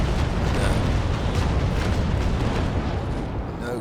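Warship cannons roar in the naval combat game Naval Action, a dense, sustained booming rumble of gunfire that stays loud and heavy throughout, fading slightly at the end.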